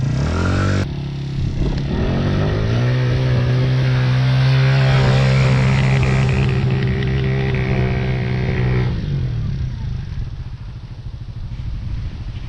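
A race vehicle with a slow clutch drives into mud, its engine holding a loud, steady drone close by before dropping away near the end, leaving a rough idle.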